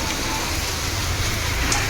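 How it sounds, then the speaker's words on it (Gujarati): Rain falls steadily outdoors as a dense, even hiss of drops on surfaces, loud and continuous throughout with no pauses. "વરસાદ જોવો ને એવો ચાલુ છે જો."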